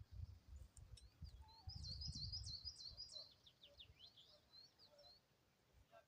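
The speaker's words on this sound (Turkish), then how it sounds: "O kuş seslerini zaten duyuyormuşsunuzdur. Harika da güzel kuş sesleri." Faint birdsong chirps and trills in the distance outdoors, with soft wind rumble underneath and occasional brief calls.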